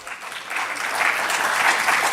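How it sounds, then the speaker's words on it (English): A conference audience claps as dignitaries walk onto the stage, a brief, dense burst of applause that swells over two seconds and stays loud. "Please give them a huge round of applause."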